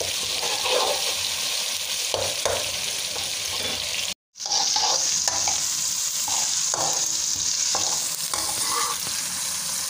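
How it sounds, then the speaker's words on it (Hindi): Tomatoes sizzle steadily in a hot pan while a utensil stirs and scrapes through them in repeated strokes, with one brief dropout midway. "टमाटर को जो है वो हम थोड़ा सा भूनेंगे, इसमें थोड़ा सा फ्राई करेंगे"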